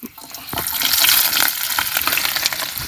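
Chopped onions and green chillies hit hot oil in a pan for goat brain fry, with a loud, close, continuous crackling sizzle and occasional stirring clinks.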